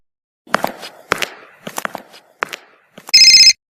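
A few soft taps and knocks in a quiet home are followed by a short, loud burst of a trilling electronic telephone ring.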